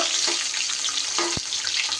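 Fish hisses and sizzles steadily in hot oil in a pan, a dense, close frying sound with a couple of faint utensil taps; no voices.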